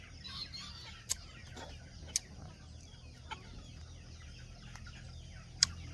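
Chickens cluck softly in the background over a steady outdoor hum, with a few sharp clicks scattered throughout.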